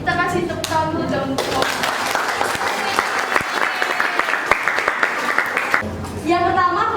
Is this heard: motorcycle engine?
no